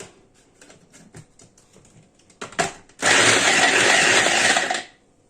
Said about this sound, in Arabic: هنحطه بقى في الكبه كده وهنضربه ضربه بسيطه كده حلوه